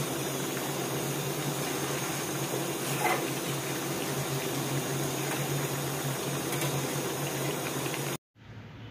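Tap water runs in a steady, continuous broadband gush while fish is washed clean at a home sink, holding level for about eight seconds before cutting off abruptly.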